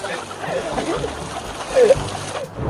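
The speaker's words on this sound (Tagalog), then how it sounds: "wag niyo akong sabuyan!" Water splashes and sloshes at a countryside stream while people talk and shout over it, with a brief louder splash near the end.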